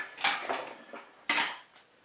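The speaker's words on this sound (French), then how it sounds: "Je dépose le moule dans la cuve du Cookéo" An oiled cake mould for a cherry cake is set into the metal pot of a Cookeo cooker, giving two sharp metallic clanks about a second apart, each followed by brief rattling, close and clear.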